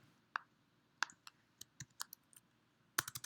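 A computer mouse gives a series of sharp, faint clicks in a quiet room, spaced irregularly and ending in a quick cluster of several clicks.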